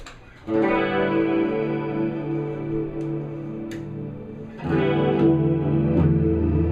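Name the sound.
guitar phaser effect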